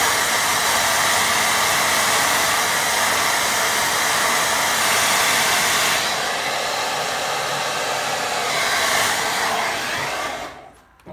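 A hair dryer blows steadily and loudly at close range, drying watercolour paint on a beach scene painting, its broadband whoosh shifting slightly in tone midway before it switches off at the end.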